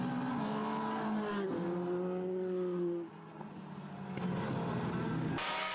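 Race cars at Mondello Park circuit in a Formula BOSS Ireland championship round roar past loudly, with several engine notes rising and falling as cars blast across the line, one passing after another.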